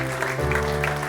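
A church congregation claps during a worship service, a short burst of applause over sustained tones from a keyboard or organ.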